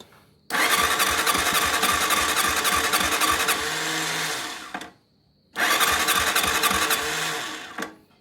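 A motorcycle that stalls and is hard to start because of low compression, cranked twice: each loud whirring start attempt runs about four seconds, then cuts off, with a short silent pause between the two tries.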